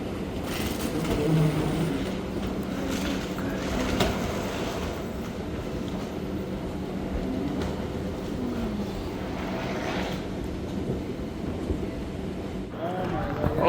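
Steady rumble and rattle of a train rolling along rails, with faint clatter and occasional squeals, continuous throughout; muffled voices sit under the noise.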